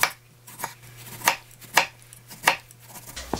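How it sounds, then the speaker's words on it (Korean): A knife slices through tomatoes on a cutting board, six or seven crisp chops landing in an even, unhurried rhythm, close and clear with no talking. "토마토 한 두 개 정도만 잘라줄게요."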